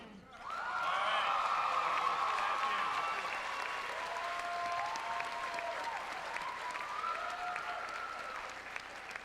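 Applause at a university presidential inauguration, a crowd clapping steadily and fairly loudly throughout, while a looping musical tone and a few scattered whoops sit within it.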